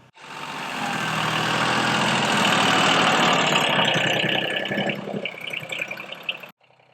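A tractor engine runs steadily while lifting a heavy log, a loud close rumble that holds for several seconds, then falters slightly and cuts off abruptly near the end.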